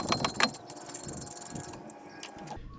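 Wheel nuts being fastened onto the hub of a 2014 Toyota Sienna during suspension work: continuous metallic ratcheting and clicking, close by and steady, with a few sharper clinks early on.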